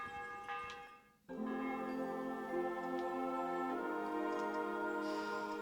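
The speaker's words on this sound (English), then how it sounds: "Wait a minute, how's the bell ringing?" A church bell ringing in the video game A Night With Father Godwin, a sudden resonant clang after a brief quiet, then a rich sustained ringing tone that hangs on, with no talking.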